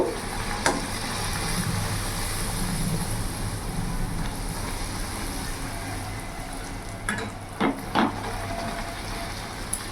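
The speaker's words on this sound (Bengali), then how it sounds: "তোমরা দেখে নিশ্চয়ই বুঝতে পারছো আমি কিরকম করে ভেজে তুলছি।" Luchi, puffed flatbread made with palm fruit, deep-fries in oil with a continuous dense bubbling hiss close by, and a few brief knocks of a slotted spoon near the end.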